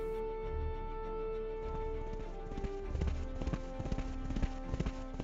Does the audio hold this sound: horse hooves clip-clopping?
yes